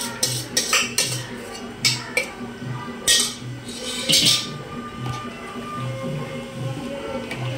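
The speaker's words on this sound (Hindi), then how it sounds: "दही आणि कांद्याच्या पेस्टला प्रॉपर मिक्स करून घ्या चिकन मध्ये।" Chicken being mixed with yogurt and onion paste in a pot, with scattered clinks and scrapes of a utensil against the vessel over a low steady background hum.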